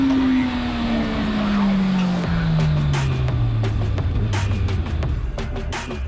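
A 2021 Suzuki Hayabusa motorcycle runs flat out at top speed in fourth gear on a test track, giving a steady, loud engine drone whose pitch sags gradually while wind roar rushes continuously over it.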